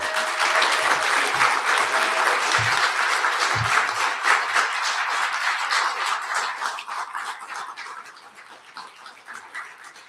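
Applause fills a hall of honour at a poetry festival event, loud and dense at first, then gradually thinning and fading toward the end, with a few low thumps early on.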